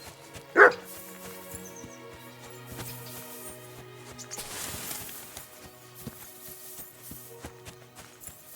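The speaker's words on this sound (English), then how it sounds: "Barking." A dog in Kingdom Come: Deliverance 2 lets out a single loud bark near the start, followed by game ambience with horse hoof clops and rustling.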